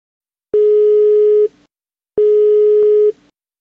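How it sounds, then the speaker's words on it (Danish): Two long, steady electronic ringback tones from a Bury CC-9060plus Bluetooth car kit, separated by a short pause, loud and clean with no talk. "Ringer op til Simon Carlsen"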